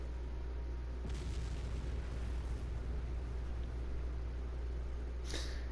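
Ki Blast explosion in the Dragon Ball Z Kakarot video game: a continuous low rumbling blast that swells around the second mark and carries on steadily, with a brighter burst near the end, and no talking.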